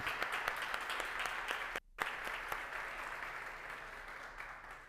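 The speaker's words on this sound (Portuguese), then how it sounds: "Vamos dar uma salva de palmas, Kyushu Sama." Steady applause from a crowd at a church service, dense clapping throughout with a brief drop in the middle before it resumes.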